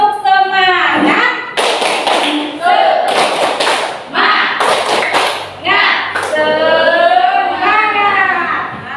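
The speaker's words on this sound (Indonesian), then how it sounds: "jadi kita tepuk semangat terlebih dahulu" A class of students stands and performs the rhythmic tepuk semangat clapping chant, loud sung and shouted voices alternating with bursts of sharp, patterned hand claps close by.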